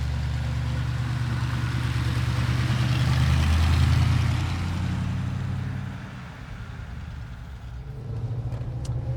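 A 1972 Mercedes 300 SEL 6.3 engine drones steadily from inside the car while driving on a mountain road, with a deep, continuous low rumble that swells, then eases off, with no talking.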